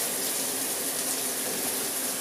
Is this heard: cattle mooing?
no